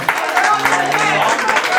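Audience at a live poetry performance clapping steadily with scattered cheers, a dense continuous wash of applause filling the room, with voices mixed in.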